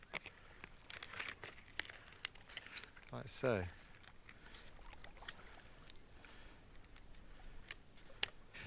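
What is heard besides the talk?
scissors cutting thin split cedar sheeting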